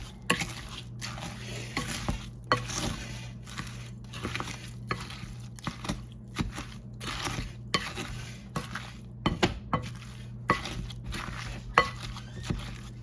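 Repeated scraping and clinking of a utensil mixing meatloaf ingredients in a bowl, in uneven bursts with short pauses, steady hum underneath, no voices.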